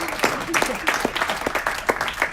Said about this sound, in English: Chuck, a round of applause